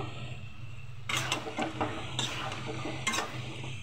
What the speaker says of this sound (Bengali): আর এই যে ওলকপি আর হলো কি আলু, এটা ভালোভাবে একটু কষাই নেব।